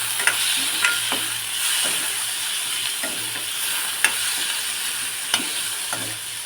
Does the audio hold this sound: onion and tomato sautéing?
yes